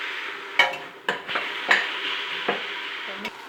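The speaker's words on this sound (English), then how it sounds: "Let's saute this one." Mint and uncooked potatoes are sautéed in a pan for a vegetable biryani, giving a steady soft sizzle broken by several sharp scrapes and clatters of stirring.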